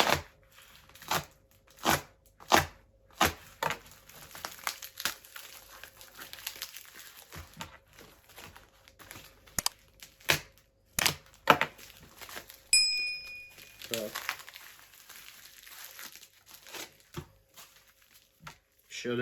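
Crinkly plastic packaging of a parcel rustles and crackles in a series of sharp bursts as it is unwrapped, close up, with quieter handling noises between them.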